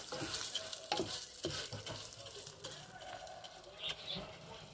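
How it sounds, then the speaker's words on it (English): Rice being toasted in oil for red rice, stirred in a pan with a steady sizzle and intermittent scraping strokes, close up, with a voice speaking faintly over it. "you're going to stir it so that way all your rice gets coated in the oil"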